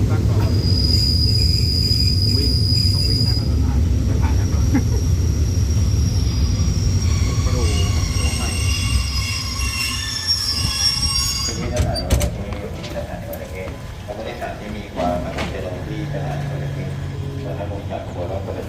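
Ordinary passenger train 283 on a Thai railway pulls into Hua Takhe station, a loud continuous rumble of wheels and carriage noise that eases as it slows, with faint squeals and announcement-like tones over the din.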